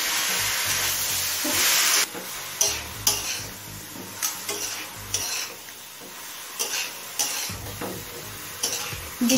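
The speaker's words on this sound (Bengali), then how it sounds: "বিট গাজরটা মশলার সাথে মিশিয়ে নিয়েছি।" Grated beetroot and carrot are stirred with ginger and spices in a pan over a medium flame, giving a steady sizzle under repeated scraping strokes of the spatula, with no voices.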